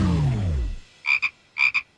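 A frog gives two paired croaks, loud and close, after a fading low tone, each burst a quick double pulse with silence in between.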